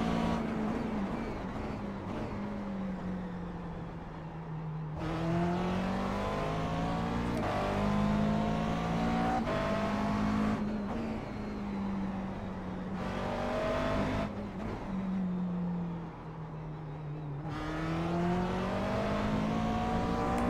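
McLaren MP4 12C GT3 race car in iRacing at Zandvoort, engine droning steadily and rising and falling through gear changes and corners, loud and continuous with no talk.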